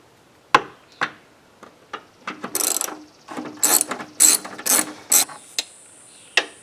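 Ratchet wrench clicking as it backs out a 12 mm bolt on a Subaru engine, close and loud, with bursts of rapid pawl ticks between single sharp clicks.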